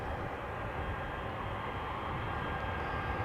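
A Suparna Airlines jet approaches on the Polderbaan at Amsterdam Schiphol, its engines making a steady, broad roar that holds at an even, fairly loud level throughout, with no voices.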